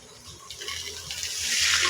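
Water splashes and pours into a cooking pot holding pork chops and carrots, building from a light trickle to a steady, fuller gush near the end.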